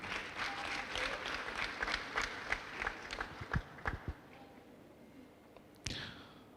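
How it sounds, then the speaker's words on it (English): Audience applause at a pledge-taking ceremony starts as a crowd of claps and thins into a few scattered, sharper hand claps. It fades to near quiet before a single clattering knock near the end. "the chairman of the council deserves a louder round of applause"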